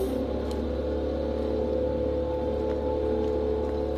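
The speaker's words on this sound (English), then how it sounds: "literally blowing leaves" A gardener's leaf blower running outdoors gives off a steady, unbroken droning engine hum with a tonal buzz, fairly close and even in loudness, with no talking.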